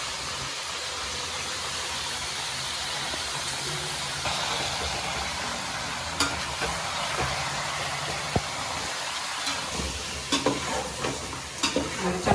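Chicken pieces with turmeric, ginger-garlic paste and salt fry in a pan, a steady loud sizzle running throughout, with scraping stirs and utensil knocks growing more frequent toward the end.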